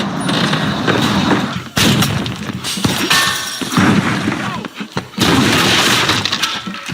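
Police open fire on a bulletproof man, dense bursts of loud gunfire with shattering impacts in three long volleys separated by brief gaps.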